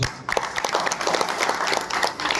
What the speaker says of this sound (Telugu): సార్ కోసం గ్రేట్ క్లాప్ ఇవ్వచ్చు.